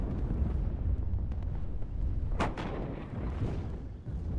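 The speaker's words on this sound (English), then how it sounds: "Buratino fires, coming down on Saint's stuff. Boom" Artillery fire in the real-time strategy game WARNO, a sharp booming blast near the middle over a dense, rumbling battlefield din of distant gunfire, with no one speaking.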